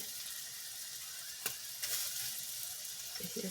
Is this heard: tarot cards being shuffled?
no